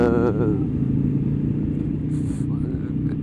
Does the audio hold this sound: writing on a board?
no